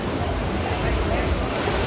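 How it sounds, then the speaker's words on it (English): Rough sea waves splash and wash onto a beach at Mykonos, Greece, a loud, dense roar of surf mixed with heavy wind buffeting the microphone. "See the green and white water splashing on the beach."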